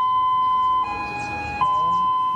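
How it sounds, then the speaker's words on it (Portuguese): A loud, steady electronic warning siren tone holds throughout at 5:30 in the morning, briefly dipping midway, with faint voices and background noise underneath, sounding as a dam threatens to break. "os moradores foram acordados às 5h30 da manhã com uma sirene"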